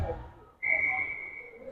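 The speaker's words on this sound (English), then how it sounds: "The ref blows the whistle because somebody wasn't set properly." A referee's whistle sounds at an ice hockey game, one sustained shrill blast cutting in over crowd noise and lasting to the end.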